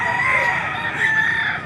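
Kelso-line gamecock crowing at a livestock market in Padre Garcia, Batangas, one sustained, loud, close crow with a wavering held note, no talk over it.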